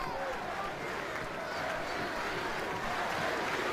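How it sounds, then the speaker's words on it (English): Dense, steady roar of a big baseball crowd at Fenway Park in Boston chanting MVP for Dustin Pedroia, continuous and loud with a commentator speaking over it. "Crowd here at Fenway chanting MVP as Pedroia digs in."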